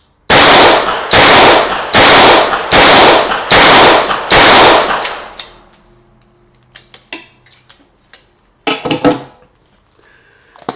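Six loud, evenly spaced gunshots from a Chiappa Rhino 120DS long-barrel revolver ring out close by in quick succession. Faint clicks and metallic handling noises follow after the last shot.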